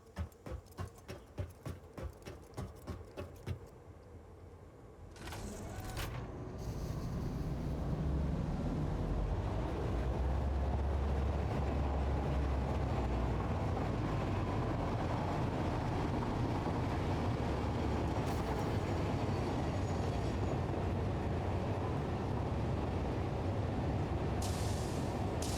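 A train in the video game Satisfactory starts with rapid rhythmic clacking over the first few seconds, then settles into a steady loud rumbling roar with a windy hiss that carries on unbroken.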